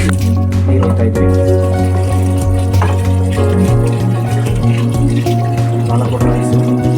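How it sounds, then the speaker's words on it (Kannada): Water running and splashing into a pot of rice being cooked in a room, a continuous close trickling pour with tonal hum in the background. "ನೋಡಿ ಸ್ವಲ್ಪ ನೀರು ಹಾಕಿದ್ವಿ."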